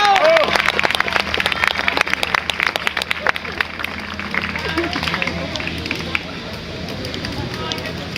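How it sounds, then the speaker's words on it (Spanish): A group of scouts gives applause for a campfire, dense clapping at first that thins into steady crowd noise, with voices mixed throughout. "vamos a darle un aplauso a la fogata,"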